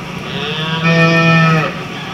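A Jersey cow lets out a single loud, close moo, a sustained tonal bellow lasting under a second over steady low background noise.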